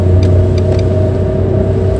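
A 2014 Nissan March 1.2-litre manual car engine pulls steadily on an open out-of-town road, a loud, even drone with a sustained low hum and no talk.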